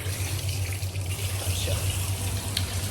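Steady running tap water splashes over items being rinsed in a sink, a continuous close wash of sound with a low hum beneath and voices talking nearby.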